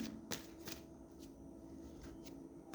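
Tarot cards are shuffled and drawn in a quiet room, making a few faint, brief papery flicks and riffles with soft pauses between them.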